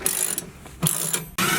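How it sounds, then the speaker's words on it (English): A hand socket wrench ratchets in quick bursts of dense metallic clicking, three short runs separated by brief pauses, close and fairly loud, during installation of a heater in a camper van. "I think it's called a socket wrench."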